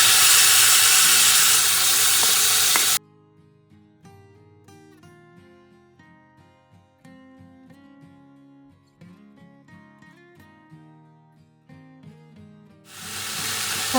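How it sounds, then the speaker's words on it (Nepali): Tomatoes go into a pan of frying chili and garlic for the Himalayan potato dish rildok. A loud, hissing sizzle gives way to soft melodic music, then the sizzle swells back in at the end. "अब हालिदिउँ हामीले यो टमाटरलाई"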